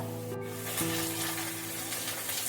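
Onions and potatoes fry in a pan with garlic paste going in, a low, steady sizzle with faint stirring scrapes, quiet and close, with no voices.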